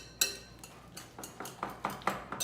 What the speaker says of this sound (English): I just use a whisker. I'm just going to go ahead and just mix all this up into one beautiful mixture.